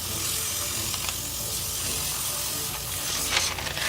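A makeup airbrush sprays after cleaning, with the needle chuck tightened and the handle back on, giving a steady, close hiss that runs unbroken for a few seconds with no voices.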